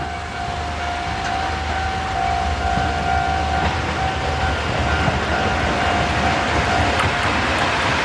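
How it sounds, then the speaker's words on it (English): A freight train carrying white rocks, likely limestone, rolls past at 8:30 in the morning with a steady, continuous rumble and a faint sustained tone above it, heard alone. "it's a freight train."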